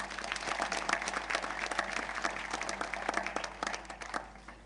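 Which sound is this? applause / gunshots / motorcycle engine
applause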